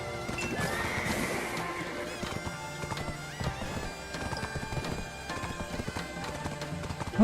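A horse in the Black Desert video game whinnies and its hooves clip-clop at a gallop, mixed with game music and effects, fairly loud and continuous.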